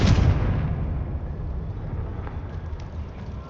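A Confringo blasting spell explosion in Hogwarts Legacy bursts as a single loud, close boom, then fades into a long rumbling decay.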